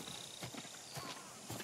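Horse hooves in Ghost of Tsushima clop faintly on the ground, a few soft irregular thuds spaced across a short moment beneath a quiet background hiss.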